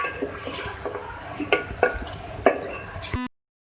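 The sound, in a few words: adding chicken to the pan to fry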